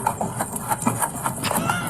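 A police horse walks with steady clip-clop hoof beats, evenly paced and fairly close, with a faint background hum.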